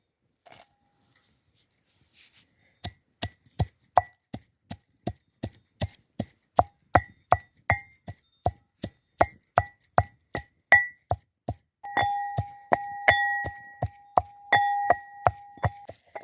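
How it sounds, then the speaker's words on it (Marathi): Garlic is pounded for Maharashtrian tempered toor dal, starting after a short quiet stretch. The blows are sharp, ringing and metallic, in a steady rhythm of about two per second, and a faint tone rings on near the end. "आता हे लसूण टाकून आपण कुटून घेऊ"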